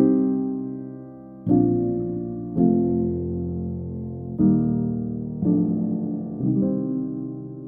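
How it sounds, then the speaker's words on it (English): Gentle piano chords played slowly, each struck softly and left to ring out and fade before the next, mellow and delicate with no other sounds. "the soft piano sounds like this"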